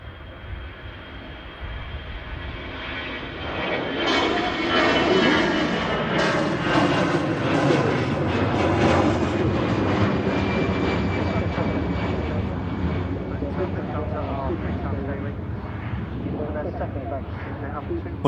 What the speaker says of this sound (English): Airbus departure, A320 by the looks of it. Rolling down 23 right with Lufthansa.